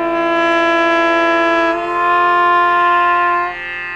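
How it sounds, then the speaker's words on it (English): A Firebird trumpet holds a bright, steady note, then shifts pitch twice with a half-valve technique, so each change slides smoothly rather than jumping cleanly. The sound is close and loud, with no other sounds. "The other option that a valve trumpet player has is to use the valves and do like kind of a half valve"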